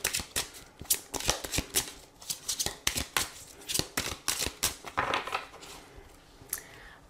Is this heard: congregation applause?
no